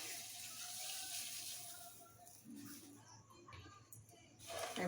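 A cup of water pours into a pan or bowl to start sugar syrup for sooji barfi, a brief gushing stream that fades and returns among faint kitchen clatter.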